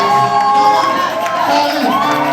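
A church congregation cheers and acclaims loudly during a special worship service, a dense continuous roar of mixed shouts and voices with some higher whoops.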